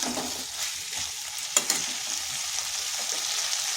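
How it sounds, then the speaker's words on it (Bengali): Cauliflower and potato sauté in a pan, giving a steady close sizzle with a couple of quick spatula scrapes near the middle. "এরপর দিয়ে দিচ্ছি ফুলকপি আর আলু। এটাকেও ভালো করে কষিয়ে নিতে হবে।"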